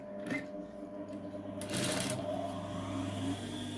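A sewing machine stitching a decorative sleeve design, running with a steady mechanical whir and rattle near the listener, with a brief louder burst partway through and no talking.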